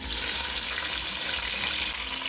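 Loud, steady sizzling hiss of green chilies, curry leaves and onions frying in about three-quarters of a cup of oil in a pan, continuous and close with no speech.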